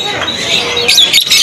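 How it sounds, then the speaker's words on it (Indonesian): Lovebirds of mocha and violet-blue types at a bird kiosk give sharp, high chirps and squawks that come in short bursts close by, with faint talk underneath. "dari burung-burung lakbet yang tersedia ini."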